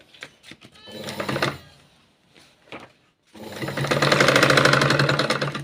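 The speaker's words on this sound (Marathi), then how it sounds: "अशा पद्धतीने मी इथं बाही शिवून तुम्हाला दाखवत आहे" A sewing machine stitches a long designer sleeve on stiff marksheet paper, close by: short start-stop bursts give way to a long, steady run of rapid stitching.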